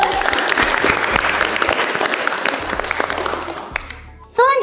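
A class gives a round of clapping for a student named Agus during a teaching practice lesson, brisk and steady before tapering off, followed by a short burst of speech at the end.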